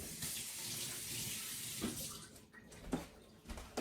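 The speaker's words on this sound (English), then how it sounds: "Let me wash my hand real quick" A hand is rinsed under a running kitchen tap, a steady close rush of water with a few splashy knocks and bumps near the end, and no talking.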